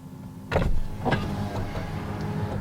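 A Wheego car's power window motor whirs as the glass slides down, a steady mechanical hum with faint clicks, heard close up over low engine rumble.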